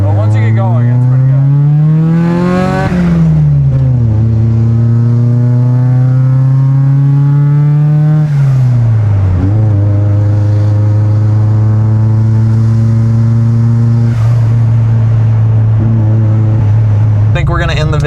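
Mazda 323 GTX rallycross car engine loud and close from inside, revving up and down through several gear changes while driving, steady harmonic drone dropping and climbing in pitch.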